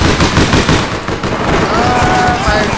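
Rapid automatic gunfire from a basic weapon in the online shooter APB Reloaded, a dense, continuous burst running throughout under game noise, with a voice faintly present.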